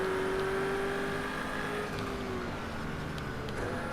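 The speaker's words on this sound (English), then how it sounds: "these Aston Martins do not brake very hard" An Aston Martin race car in a video game brakes from speed. Its engine note drops in pitch as it slows, a steady mechanical hum at moderate loudness with no talking.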